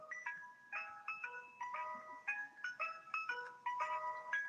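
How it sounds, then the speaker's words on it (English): An ice cream truck plays a bright, repeating chime melody, the notes distinct and evenly paced, heard from a moderate distance and alone. "that's a different ice cream truck"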